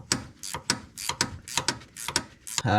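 Ratcheting clicks come from a 7mm wrench held on the cutout of a shock absorber shaft on a 1982 Mercedes 300D Turbo Diesel. Short bursts of close metallic clicking repeat in an uneven rhythm.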